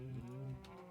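A Minecraft cow lets out a single short, low, nasal moo, close and clear, with no talk.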